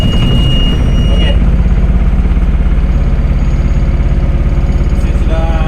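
A lifeboat engine aboard the tanker MT Mabrouk idles with a loud, steady, rapid clattering throb. A voice speaks over it.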